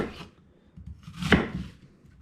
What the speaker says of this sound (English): Easiest way to take the core out, in my opinion, is just to chop it out.